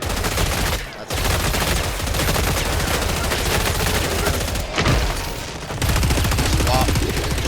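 Dense, continuous gunfire from Killing Floor 3 while fighting an armored enemy, with rapid automatic bursts filling nearly the whole stretch, broken by a couple of brief pauses during weapon swaps, and loud throughout.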